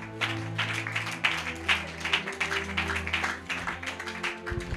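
A church congregation breaks into applause during a Bible teaching service, the claps rising in rhythmic waves over sustained music.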